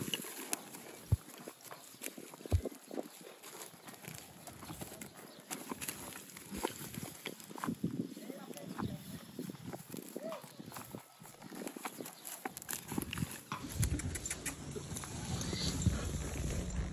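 Horse hooves clip-clopping on a ranch, a steady run of irregular hoof knocks under outdoor ambience while people talk throughout.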